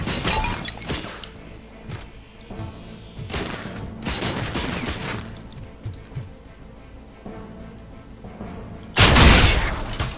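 Gunfire in the Robocop: Rogue City video game, with scattered bursts of shots and impacts over busy game noise, ending in a loud close blast.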